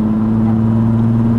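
A modified MK2 Golf with a swapped R32 engine, four-wheel drive and a DSG gearbox runs with a loud, steady, low engine drone held at a constant pitch throughout.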